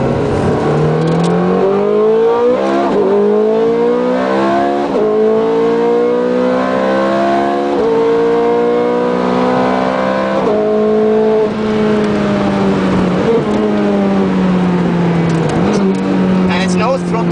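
Ferrari 430 Scuderia engine revving hard inside the cabin, rising in pitch through repeated sharp upshifts of its sequential gearbox, loud and continuous while people talk over it.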